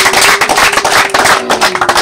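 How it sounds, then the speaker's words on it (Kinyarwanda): Clapping from a crowd of guests at a wedding anniversary celebration, dense and steady throughout, loud and close with no pauses. "mubaha amashyi cyane"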